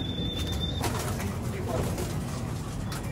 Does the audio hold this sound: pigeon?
yes